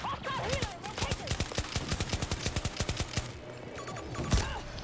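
Rapid automatic gunfire in a Battlefield multiplayer match, a dense, loud stream of close shots firing in quick bursts, with other distant shots and battle noise behind it.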